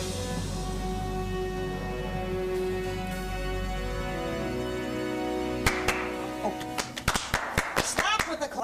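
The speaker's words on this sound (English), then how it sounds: "we thought it was customary maybe to clap when entering Mr. Gates' office" A few people clap as they walk into Bill Gates' office, a handful of sharp, uneven claps near and fairly loud, arriving over a steady background hum.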